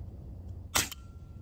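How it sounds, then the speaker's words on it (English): A single short mechanical clack near the middle as the bolt of an AEA HP Standard PCP air rifle in .25 caliber is pulled back, stiff to operate, heard alone against a quiet background. "The bolt's a little bit hard to pull back"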